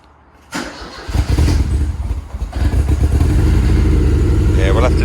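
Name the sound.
Ford Escort RS Turbo S2 engine starting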